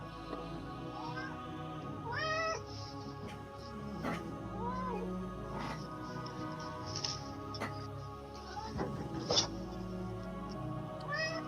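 A wet cat meows repeatedly at close range, several drawn-out and rising cries spaced across the stretch with a few shorter calls, over faint background noise.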